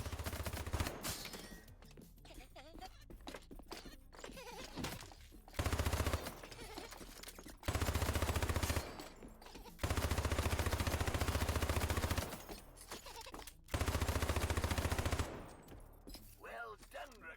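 Bursts of weapon fire in the video game HYPERCHARGE: Unboxed smash roadblocks, with several loud repeated volleys separated by quieter stretches of game sound.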